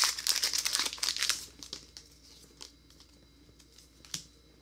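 Foil wrapper of a Pokémon trading card booster pack crinkling and crackling up close as it is torn open, busy at first, then thinning to scattered soft rustles and one last sharp crinkle.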